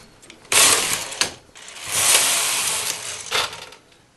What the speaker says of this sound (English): I knit 2 rows with my main carriage